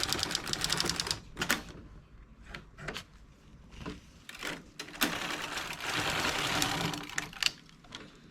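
A domestic knitting machine carriage runs back and forth knitting tubular rows, giving a series of mechanical clacks and sliding rattles in several bursts followed by a longer grinding pass, close and moderately loud.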